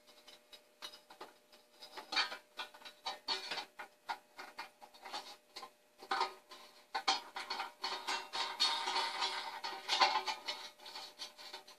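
Screw cap hand-tightened onto an aluminum mount base while a sprayer hose is fitted to a washing machine, giving quiet, irregular clicks and scraping ticks that rise and fall close by, with no speech.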